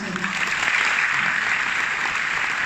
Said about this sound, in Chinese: 给爱多美一个热烈的掌声